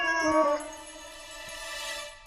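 A cat gives a drawn-out, wavering meow, loud and close at first, then fading into a long, thinner cry. A faint soft tap comes near the end.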